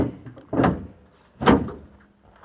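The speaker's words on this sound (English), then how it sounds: "Close the hood." Hood of a Chevrolet C10 squarebody truck being shut, giving two separate solid thunks about a second apart, close and fairly loud, with no talking.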